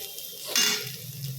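Onions fry in a pan with a tempering of black cumin and dried chilli, a faint background sizzle broken by one brief, bright hiss or clink partway through.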